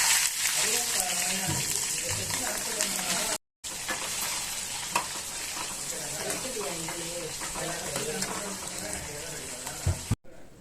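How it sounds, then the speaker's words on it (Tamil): Spices, shallots, ginger and garlic dry-roast in a pan for goat head curry, with a continuous close sizzle and crackle, occasional stirring scrapes and two brief dropouts. A voice talks under part of it. "இது எல்லாமே ஒன்றா சேர்த்து நம்ம வறுத்து அரைக்க போகிறோம்."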